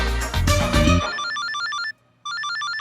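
A phone rings: a loud, busy burst of sound, then an electronic ringtone of repeating bright tones that stops for a moment and starts again.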